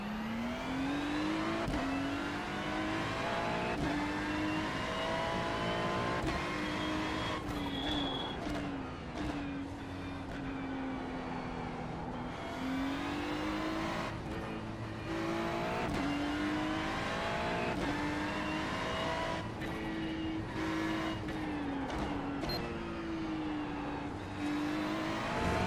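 A Porsche race car in the iRacing sim holds a steady, loud engine drone through the whole stretch, its pitch rising and falling with shifts and throttle changes, with a hint of tire squeal.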